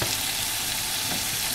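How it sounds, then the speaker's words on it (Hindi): Sangri vegetables with amchur and ground mustard are stirred in a hot pan, giving a brief, steady sizzle with scraping stirring, close and unbroken. "हम इसे अच्छे से मिक्स कर लेंगे"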